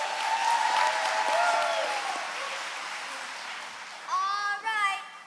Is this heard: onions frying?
no